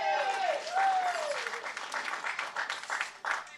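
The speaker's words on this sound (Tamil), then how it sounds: "தயவு செஞ்சு நீங்களே ஒரு தடவை கைத்தட்டிடுங்க" An audience at a Tamil stage event claps as asked, with scattered, fairly faint applause rising after a voice with tonal, sung-like inflection and continuing in uneven bursts.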